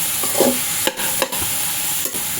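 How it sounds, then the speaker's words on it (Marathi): Vegetables for veg fried rice being stir-fried in a pan: a steady frying sizzle with a few sharp scraping stirs of the spatula, close and fairly loud, with no talking. "व्यवस्थित परतवून घ्यायचं आहे"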